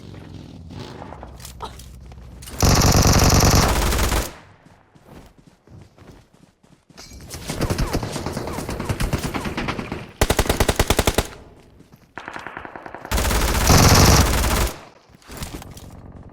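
Bursts of automatic gunfire in PUBG Mobile on the Livik map, loud dense volleys of about two seconds each separated by quieter stretches of footsteps and movement, with no talking.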